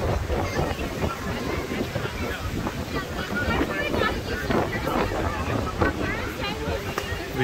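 Strong, steady gusty wind roaring across the microphone on a street of shops and restaurants near Hermosa Beach, a continuous loud rush filling the whole stretch with no pauses.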